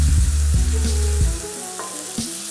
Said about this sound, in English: And then I'm gonna put the garlic in.